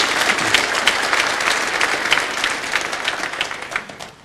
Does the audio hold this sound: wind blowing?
no